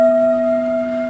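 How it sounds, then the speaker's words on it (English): A notification bell chime rings once, a clear sustained tone that starts loud and slowly fades, heard alone with no talk. "this little bell that sounds like this"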